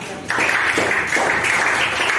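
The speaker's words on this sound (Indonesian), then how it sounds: "tepuk tangan untuk nomor A" A classroom group claps for a correct maths answer, a loud, dense burst of hand clapping kicking in sharply and continuing steadily to the end.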